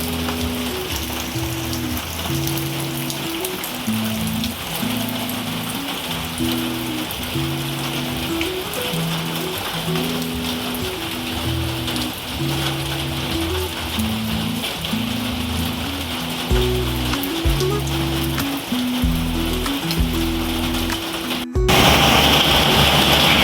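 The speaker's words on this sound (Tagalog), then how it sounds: "Ulan na naman." Steady rain falls and patters on a surface, a constant hiss, with a low rhythmic engine-like hum underneath that cuts out near the end.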